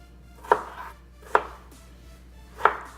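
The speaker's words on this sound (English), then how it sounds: "What we're gonna do is just chop it up in quarters." A knife cuts vegetables into quarters on a board with three crisp, evenly spaced chops about a second apart, each one close and distinct against a quiet background.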